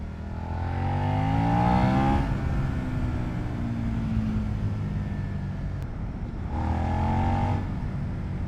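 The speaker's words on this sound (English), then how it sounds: "you have plenty of power, even lower down the revs, it pulls very good" A 2022 Suzuki SV650 motorcycle engine revving up while riding, a steady loud drone that climbs in pitch, eases off, then rises again near the end.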